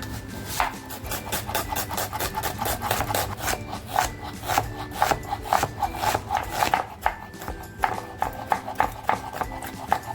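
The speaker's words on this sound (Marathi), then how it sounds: "आता कांदा आणि टॅमॅटो कापून घेते" Onion and tomato being chopped on a board with a knife, a steady run of quick, sharp close knocks, nearly continuous and fairly loud, with no voices.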